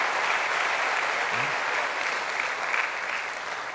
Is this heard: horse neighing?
no